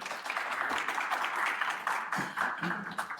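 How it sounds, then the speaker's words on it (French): Audience applause and cheering at the close of a French dating show, a dense continuous wash of clapping with raised voices mixed in throughout the short stretch. "Franchement, applaudissez-le s'il vous plaît."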